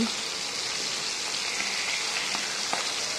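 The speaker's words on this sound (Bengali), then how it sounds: "এখন এগুলো খুব ভালো করে উল্টে পাল্টে বেশ কিছুক্ষণ ধরে ভেজে নেব" Hilsa fish heads fry in a pan with a steady, dense sizzle and a few faint scattered pops, heard close with no talk.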